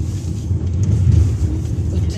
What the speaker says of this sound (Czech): Teď tady přijelo auto